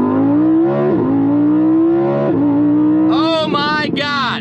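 A 2020 Lamborghini Huracan Evo engine revs loudly and nearby, its pitch climbing and dipping in sustained pulls with a few sharp blips and crackles near the end, no talk over it.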